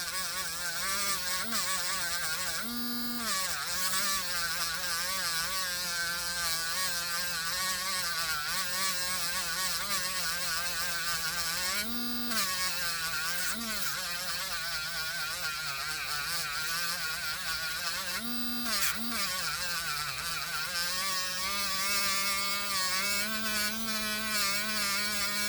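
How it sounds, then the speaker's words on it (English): Rotary tool spinning at high speed while polishing a ring made from a silver quarter, a steady close whine with harmonic buzz that dips and rises in pitch as load changes. "You want the tool to spin as fast as it can,"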